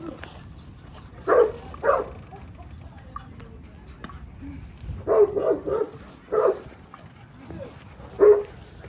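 Dogs at a dog-training facility in Dar Bouazza bark in several short bursts, a few sharp barks and yips spaced across the stretch, fairly close, with quieter background sound between them.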